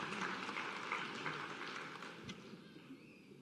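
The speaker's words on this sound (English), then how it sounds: "Can we give him a round of applause as well" Audience applause at a white coat ceremony, a steady patter of many hands clapping that tapers off gradually over a few seconds, quiet and somewhat distant.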